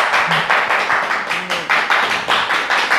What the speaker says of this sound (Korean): 자, 박수 치세요